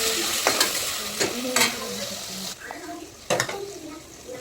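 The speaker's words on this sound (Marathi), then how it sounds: "त्याच्यात थोडेसे पीनट्स टाकू, पीनट्स भाजून घेऊ" Peanuts are added to roasted onion in a pan for Maharashtrian masoor dal khichdi, with loud scraping stir strokes and a sizzle rising at each one, interspersed with light clinks of the spoon.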